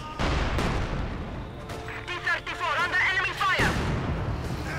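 Mortar and artillery fire in a Company of Heroes 2 match, with booming blasts and crashing impacts among other battle noise, loud and dense before ending abruptly.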